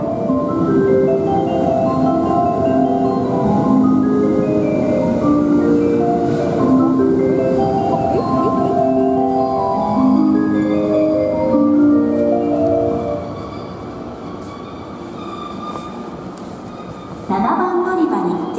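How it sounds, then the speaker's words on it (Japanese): An out-of-service train pulls away from track 6 at a busy station, its rumble running under a melodic departure chime and platform announcements before fading, with voices speaking over it. "The train on track 6 will be departing."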